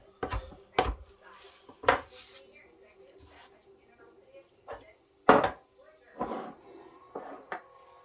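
Fresh oregano leaves stripped from the stem and roughly chopped with a knife on a cutting board, giving a few sharp, spaced knocks of the blade, close and fairly clear, with a voice talking between strikes.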